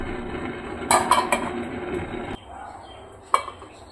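Metal pot and utensils clatter in a home kitchen while chicken is prepared, with a cluster of clinks and scrapes early on, a quieter stretch, then one sharp knock near the end.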